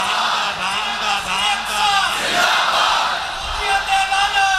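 A crowd at a religious speech event on Bait ul Muqaddas and Masjid al-Aqsa chants the slogan zindabad, loud massed voices shouting in rhythmic bursts with reverberant echo.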